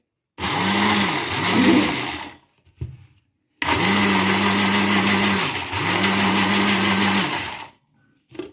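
A blender grinds sesame seeds for tahini in loud bursts, starting and stopping several times with brief pauses between runs; close and mechanical, no talking.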